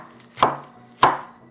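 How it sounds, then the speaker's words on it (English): Two sharp knife chops through spinach on a cutting board, close and crisp, spaced about half a second apart with quiet between them. "You don't need to chop a spinach in small pieces."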